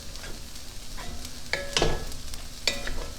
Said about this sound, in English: Let them just simmer in there.